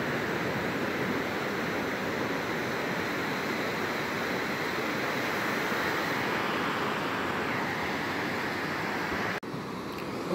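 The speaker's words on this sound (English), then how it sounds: "But it's a nice beach." Ocean waves break on a quiet beach, a continuous dense roar of surf that stays loud and steady throughout with a slight dip near the end.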